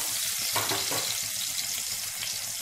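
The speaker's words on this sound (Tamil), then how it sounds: "கொஞ்சமாக பூண்டு தட்டி வச்சுருக்கேன் அதை சேர்த்துடலாம் பூண்டு லைட்டாக ஃப்ரை ஆனால் போதும்" Crushed garlic frying lightly in oil for a mutton curry gives a close, steady sizzle with a few soft stirring scrapes, and no one speaks.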